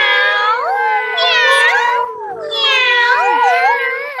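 A VTuber's voice imitates a kitten, giving two long, drawn-out, sliding meows close to the microphone, loud and whiny, with a brief dip between them.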